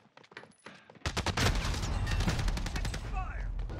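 Gunfire from several enemy players in Call of Duty Warzone, dense rapid automatic bursts that start suddenly and continue loud without pause, with lighter shots and scattered noises before them.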